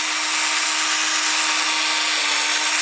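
A black and red power drill spins steadily against a rivet on a JDM Evo 9 bumper, a continuous, loud whirring with grinding friction that holds level throughout.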